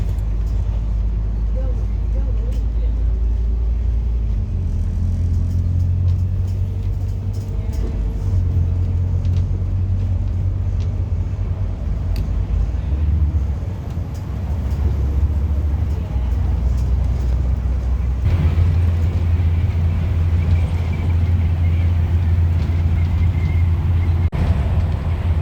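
Scania OmniCity bus on Metrobus route 200 between Crawley and Horsham, heard from inside as a continuous low engine rumble and road noise, with gear changes shifting the drone.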